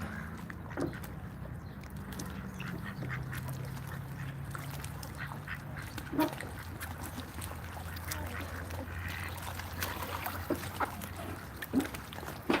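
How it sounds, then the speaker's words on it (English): Ducks, including a turkey duck, quack in scattered calls over a low outdoor background, soft and moderately distant, with no one talking. "I like this turkey duck."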